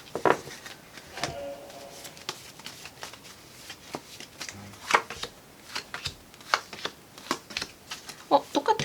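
Tarot cards are shuffled and drawn by hand, a run of quick papery flicks and soft slaps coming in irregular bursts, close and fairly quiet.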